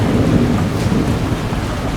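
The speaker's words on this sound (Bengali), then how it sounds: "ভয়ঙ্কর এক ঝড় তার আসরিক শক্তি নিয়ে ঝাঁপিয়ে পড়ল তাদের উপর, সাথে তুমুল বেগে বৃষ্টি।" A super cyclone striking the Odisha coast, with thunder and heavy rain in a loud, dense, continuous roar of downpour and rumbling storm noise.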